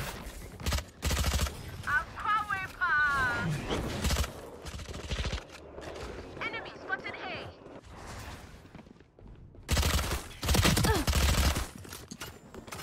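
Valorant gunfire crackles in bursts of rapid shots at the start and again near the end, with someone talking in the middle stretch between the volleys.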